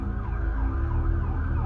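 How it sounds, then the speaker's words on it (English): Ambulance siren passing by, its wailing tone rising and falling steadily over a low rumble of traffic, loud and continuous with no talk. "There's an ambulance going by, if you can hear that."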